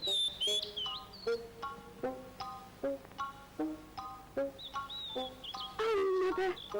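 Springtime birds in a cartoon chirp in a lively, steady series of short, bright tweets and whistles, each note separate, with a louder flurry of calls near the end.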